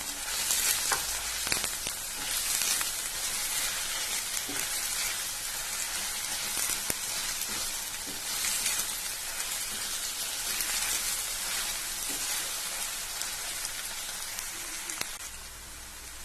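Chicken masala with chillies, pepper and curry leaves sautés in a pan, a dense continuous sizzle with crackling spatters and a few stirring scrapes, close and steady throughout without speech.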